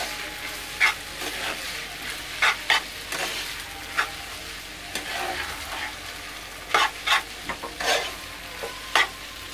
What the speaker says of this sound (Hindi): हम सब मसालों को अच्छे से इसमें मिला लें ताकि ये अच्छे से एडजस्ट हो जाए इसमें।